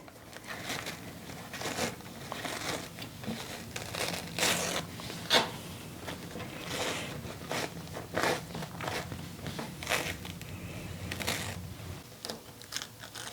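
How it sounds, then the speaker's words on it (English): Backing is torn off sewing fabric in repeated short crinkly rips and rustles, close and fairly quiet, coming in irregular bursts over several seconds with no voices. "now in the back, I can go ahead and tear off this backing"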